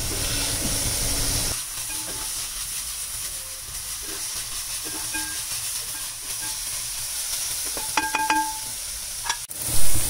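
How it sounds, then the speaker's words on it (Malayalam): Sliced onions and spices are stirred and sautéed in a pan for Kerala-style beef varattiyathu. A steady sizzle and hiss runs throughout, with a few scraping clicks near the end and no talking. "ഇനി ഇതെല്ലാം കൂടെ നന്നായിട്ടൊന്ന് ഇളക്കി കൊടുക്കുക"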